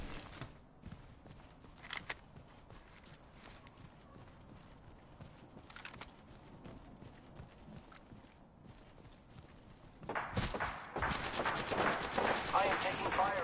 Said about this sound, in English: I am taking fire, friend. Firing.